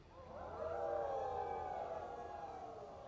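An outdoor theater audience imitates a coyote howl together, a long rising and falling group howl of many voices that swells and slowly fades over about three seconds.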